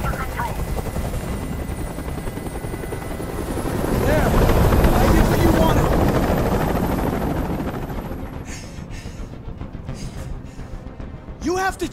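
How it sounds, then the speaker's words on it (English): A helicopter hovers overhead during a hostage standoff in the video game Detroit: Become Human, its heavy rotor thrum swelling louder midway and then easing back, with faint scattered noises near the end. "Tell that helicopter to get out of here!"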